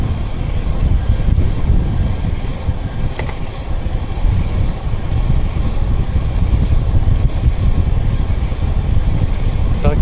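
Strong wind buffets the microphone continuously during food delivery rounds, a loud rumbling roar that never lets up.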